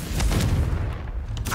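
Confringo fire spell cast in the video game Hogwarts Legacy, a loud, dense fiery blast and rumbling boom filling the short moment.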